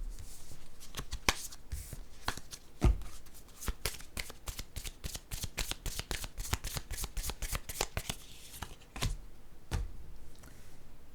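Tarot cards being shuffled by hand make a rapid, continuous run of crisp riffling flicks, close and fairly quiet, with a few sharper taps near the start and end and no talking.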